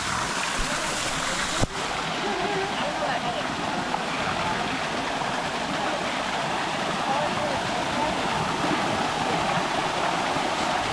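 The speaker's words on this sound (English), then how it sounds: "With a lovely waterfall as well." Waterfall at a hot springs cold pool in Costa Rica, a continuous broadband rush of falling water that stays steady and fairly loud throughout, with one brief knock early on.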